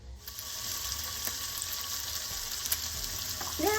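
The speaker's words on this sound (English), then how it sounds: "cook that until it starts to sizzle and brown" Pancetta or streaky bacon sizzles in a pan on a stove, a steady broadband crackle lasting throughout at moderate level, with a brief clatter near the end and no talk.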